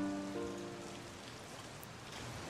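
Steady rain falls in the video game Traumfänger, a soft even hiss that runs through the whole stretch, with a brief tonal sound near the start and no voices.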